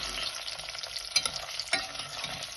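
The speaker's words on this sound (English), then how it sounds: "as you can just hear, it's just cooking gently." Chicken coated in paprika and chilli fries gently in a pan, giving a steady soft sizzle with a couple of brief stirring clatters, close and fairly quiet, with no talking.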